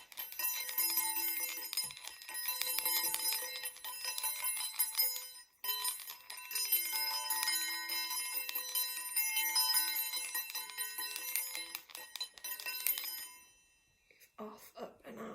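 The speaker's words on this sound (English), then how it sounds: "I'm also just here going to use my sound bell" A small handheld sound bell rung repeatedly over an oracle card deck, bright sustained metallic ringing with shimmering overtones, a brief pause around the middle, then fading out as soft speech follows.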